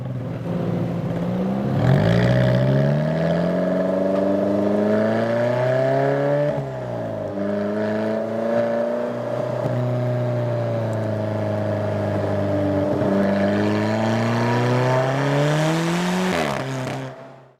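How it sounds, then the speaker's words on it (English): Alfa Romeo 4C engine running without a muffler, revving up and down in long sweeps with a rasping, loud exhaust note and sharp crackling pops between throttle changes, close and unaccompanied by voices. "It has lots of pops and bangs."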